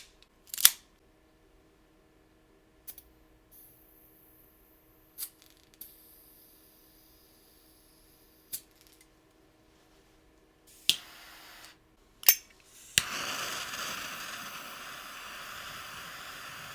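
An Aganorsa JFR Lunatic 10x100 cigar is cut and lit: a few sharp isolated clicks and snips spaced apart in near silence, then a lighter's steady hissing torch flame that carries on to the end.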